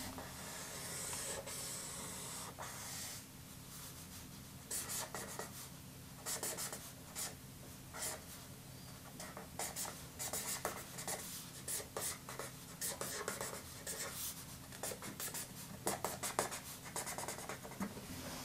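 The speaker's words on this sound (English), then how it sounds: "I then draw his big bushy eyebrows" A pen scratches steadily across paper while a cartoon is drawn, with quick repeated strokes and scribbles close up, alone, with no talk.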